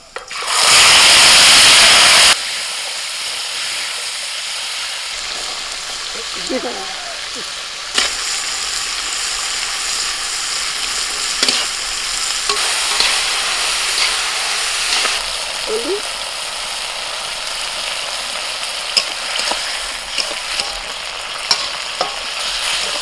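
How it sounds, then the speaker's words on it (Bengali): Cooked rice being fried in a pan at an outdoor picnic: a loud burst of hissing sizzle at the start settles into a steady frying crackle with occasional stirring scrapes and clinks, close by. "আর আমি রাইসটা ভেজে নেবো"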